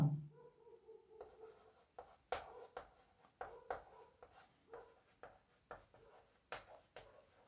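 Chalk or marker writing on a board during a physics lesson, a steady series of short scratching strokes and taps at close range, repeating roughly every half second with no talk over it.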